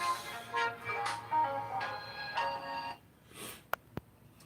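Phone ringtone from an incoming call, a melodic electronic tune of repeating notes that plays for about three seconds, followed by a couple of sharp clicks as the call is picked up.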